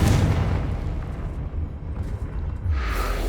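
A Confringo spell explosion in Hogwarts Legacy, a loud low booming rumble that is strongest at the start and then rolls on, with a brighter burst toward the end.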